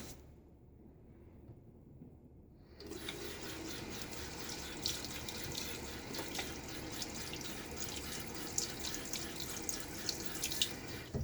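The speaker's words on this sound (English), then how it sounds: "I like to rinse the tub upside down to get all the stuff off the threads" A shaving soap tub is rinsed upside down under a running tap, a steady, fairly loud splashing water flow that starts abruptly after a quiet moment and continues to the end.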